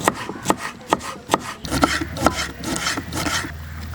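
A knife chops capsicum repeatedly on a board, with sharp evenly spaced cuts at first, then quicker, softer chopping with rubbing sounds.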